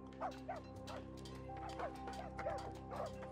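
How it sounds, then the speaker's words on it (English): Dogs in the PC strategy game Rise to Ruins bark repeatedly, in short yips and woofs at a steady rhythm, set against a constant low hum of game ambience. "I'm gonna get a little sick of listening to those dogs barking, though."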